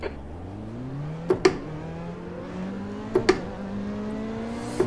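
Formula Renault 3.5 race car engine in iRacing at Watkins Glen, revving hard through rising gear pulls with two sharp upshift blips, a loud continuous whine alone throughout.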